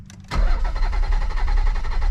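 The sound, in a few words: Nissan 300ZX twin turbo engine cranking over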